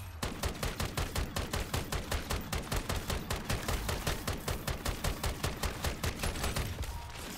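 Rapid automatic gunfire in the video game Call of Duty MW3 Zombies, a long, evenly paced burst of loud shots repeating about five times per second for roughly seven seconds before stopping.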